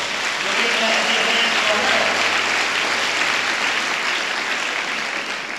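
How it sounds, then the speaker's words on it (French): Church congregation applauding and cheering to acclaim the Lord, a dense, steady wash of clapping filling the room, loud throughout and tapering slightly at the end. "On acclame le Seigneur pour elle."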